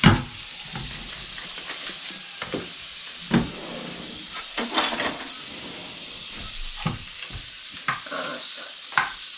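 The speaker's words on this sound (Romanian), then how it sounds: "Punem undeva la 5 grame de unt. Lăsăm să se topească." Butter, about 5 grams, melting in a preheated empty frying pan in a home kitchen, giving a steady soft sizzle with occasional brief clinks and stirring scrapes, fairly quiet and continuous with no talking.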